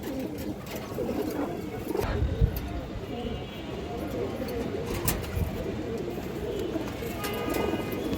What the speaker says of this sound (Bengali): পুরান জাতের কবুতর।